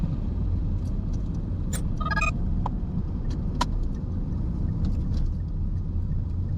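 A car driving through heavy traffic at an intersection in Bacoor while coasting in neutral, a steady low road and engine rumble from inside the cabin with faint clicks and small rattles above it.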